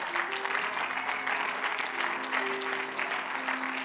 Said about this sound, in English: Clap for them as they come.